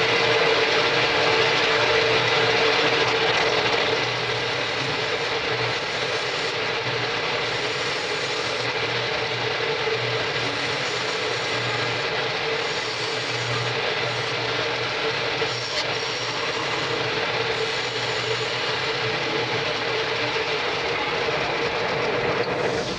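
A wooden bowl being rough-turned on a lathe with a bowl gouge gives a loud, steady grinding whir with a mechanical rattle that runs unbroken for the whole stretch, with no talking.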